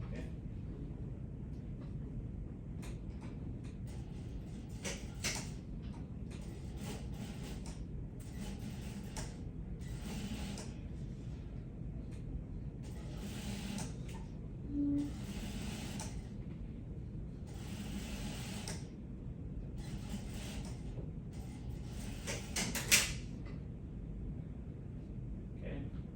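A sewing machine runs an understitch along a coat facing, giving a steady low mechanical whirr in stretches separated by short pauses, with someone talking at times.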